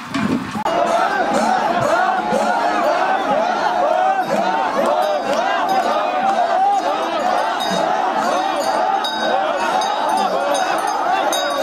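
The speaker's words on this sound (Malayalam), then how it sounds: "ആവേശത്തിൽ ഓരോ ദേശക്കാർ കുതിരകളെയും കൊണ്ട് ആർപ്പുവിളികളോടെ കാവിലേക്ക് പാടത്തുകൂടി ഓടിവരുന്നു" Villagers shouting in a dense continuous roar as they run horses across paddy fields toward a temple at the Machad Mamangam festival, loud and steady throughout.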